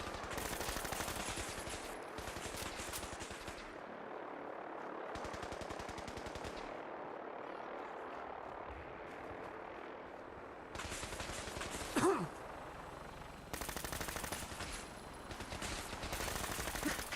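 Sustained automatic gunfire in Fallout 4, dense rapid bursts of shots that rattle on almost continuously, briefly thinning before resuming at full intensity, with no voices over it.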